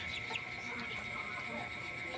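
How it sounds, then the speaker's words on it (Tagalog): Chicken clucking, fairly faint and continuous against a steady background hum, with soft irregular clucks spread across the moment. "Napakagandang manok nito."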